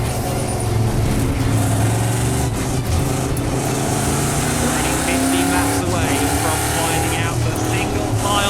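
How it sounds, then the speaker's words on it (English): EuroNASCAR 2 Series stock cars at the Belgian round's season finale pulling away from the start: a loud, continuous engine roar with rising revs as the field accelerates, heard throughout, with commentary talking over it. "We're underway and racing for the final time in the 2024 EuroNASCAR 2 Series."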